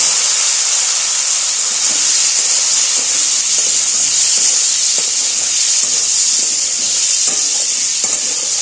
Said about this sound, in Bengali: এবার আমি এই যে হাফ সেদ্ধ করা আলুগুলো সবার সাথে ছেড়ে দেবো